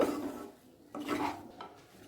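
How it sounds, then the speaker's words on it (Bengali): A utensil scrapes and stirs potatoes with spices and mustard oil in a pan, quiet scraping strokes with a few clinks against the metal. "এবার তেলটাকে দিয়ে ভালো করে আলুটার সাথে পুরো মশলা ভালো করে মাখিয়ে নেব"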